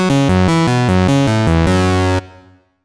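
Sampled analog synth from a Minimoog Model D and Moog Voyager playing a fat, buzzy sequence of about eight rapid notes, ending on a held note that cuts off with a short decaying tail, loud and alone.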